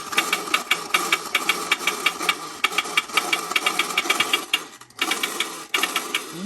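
Mirrorman Roadster toy car's friction motor: a fast, evenly spaced mechanical rattle-whir like a small engine, running steadily and briefly pausing before resuming, close to the microphone.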